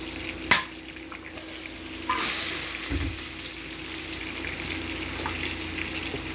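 Chicken kola urundai balls frying in hot oil, a steady bubbling sizzle that swells after a brief knock and continues evenly and fairly close throughout.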